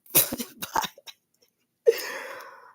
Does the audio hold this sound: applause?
no